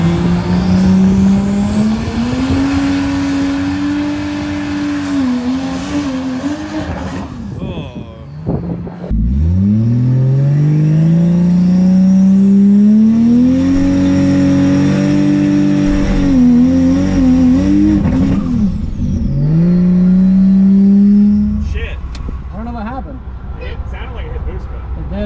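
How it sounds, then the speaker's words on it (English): A turbocharged Lexus IS300 race car launches hard, its engine climbing through rising revs, dropping at a shift, then pulling up again, loud and close, with a brief tire squeal. "The car took off and just immediately fell on its face."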